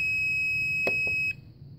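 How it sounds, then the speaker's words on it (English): A Geiger counter's steady high-pitched electronic alarm tone sounds continuously, then cuts off abruptly, with a couple of faint clicks near the end. "it'll actually set off an audible alarm"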